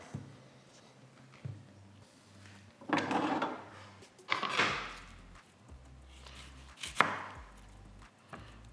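Knife strokes on a cutting board while preparing a red onion for guacamole, a few separate chops and thuds spread irregularly over quiet background, fairly close and moderate in loudness.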